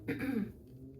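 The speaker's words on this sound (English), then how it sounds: "sorry for clearing my throat." A single short throat clearing, close and fairly quiet, followed by a low steady background hum.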